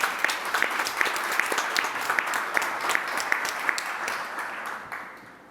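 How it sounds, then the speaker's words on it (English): An audience claps continuously at a conference event. The applause is steady and moderately loud, with scattered sharper individual claps, and it fades toward the end. "I'm giving you a round of applause."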